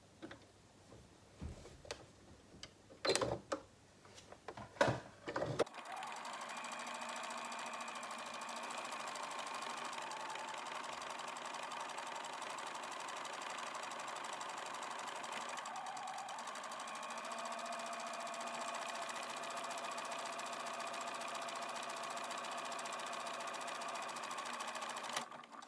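A sewing machine stitches a buttonhole in a steady, continuous mechanical whir that runs close and even for about twenty seconds, after a few handling knocks at the start.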